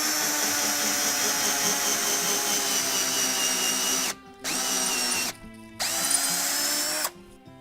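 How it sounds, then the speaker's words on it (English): A drill bores a 5/16 inch hole into the center of a maple bowl blank, a steady high whine that stops abruptly three times in quick succession toward the end. "I'm going to drill a 5/16 inch hole in the center"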